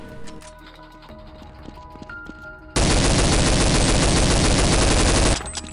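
Rifle fire in Counter-Strike 1.6 bursts in after a quieter stretch: a dense, loud, unbroken automatic stream lasting nearly three seconds, then stopping abruptly.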